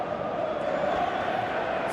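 A football video game crowd in a Manchester United Master League match gives a steady, distant roar that holds evenly without breaks.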